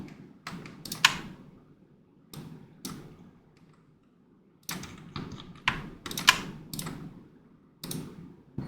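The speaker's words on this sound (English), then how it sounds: "I was clicking on caps instead of shift" Keys clack on a computer keyboard in quick irregular bursts separated by short pauses, close and fairly loud, with no talking.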